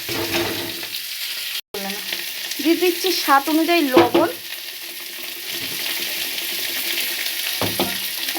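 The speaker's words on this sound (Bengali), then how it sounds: "সবজিগুলো ভাজার জন্য এখানে দিয়ে দিলাম" Vegetables with chopped onion and green chilies frying in a pan for vegetarian chow mein: a constant sizzle with occasional stirring scrapes, and a person speaking over it for part of the time.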